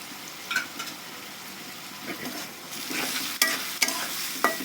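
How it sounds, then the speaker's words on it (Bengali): Egg masala spices with coriander powder and a splash of water frying in a pan: a soft, steady sizzle with scattered scraping stirs and a few sharp utensil clicks toward the end, close and fairly quiet. "ধনিয়ার গুঁড়ো দিয়ে দিব একটু হালকা জল দিয়ে দিব মশলাটা যেন পুড়ে না যায়"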